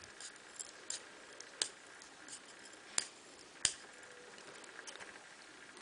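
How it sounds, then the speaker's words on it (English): Quiet, close creaking as scissors press and rotate into a wooden dowel being trimmed for a knitting needle, broken by a few sharp snaps and clicks, with no talking. "go back with your scissors and press and rotate"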